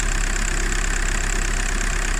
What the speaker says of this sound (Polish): Tylko nie wiem czemu tym silnikiem tak trzepie, tak regularnie co 30 sekund.